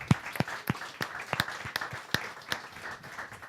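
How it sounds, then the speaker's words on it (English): A small group at Canvas Cowork, a co-working space, gives sparse, separate claps at an uneven rhythm, with quiet gaps between them. "Let's give them a round of applause."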